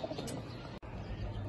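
Pigeons coo softly and continuously nearby at a pigeon market in Lahore, a low burbling murmur with a brief break midway.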